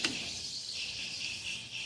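Peas kachori frying in hot oil in a kadai, a soft, steady high sizzle and crackle that holds evenly throughout, quiet and close.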